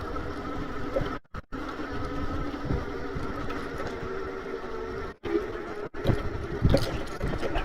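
A HiKNiGHT H6 PRO e-bike motor runs at full throttle in fifth gear while climbing a hill, giving a steady buzzing whine. Two short dropouts cut into it, and a rougher rustle rides underneath.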